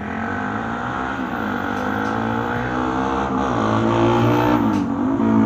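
A car engine revs through a freshly cleaned exhaust, a loud, close, continuous droning hum that rises and swells in pitch over several seconds, with no speech.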